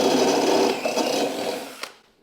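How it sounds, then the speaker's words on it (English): A handheld drill fitted with a step bit grinds through the metal impeller of a Craftsman snowblower, a steady buzzing whir that slows, ends with a sharp click, then falls silent. "Now I have a step bit here on my drill. Let's start poking some holes in that impeller."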